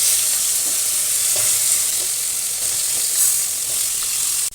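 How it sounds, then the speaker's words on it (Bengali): Potatoes sizzle steadily in hot oil already flavoured with whole cumin, bay leaf and dried red chilli, a dense close frying hiss with occasional stirring scrapes, no voices. "এবার আলুগুলো দিয়ে দিচ্ছি।"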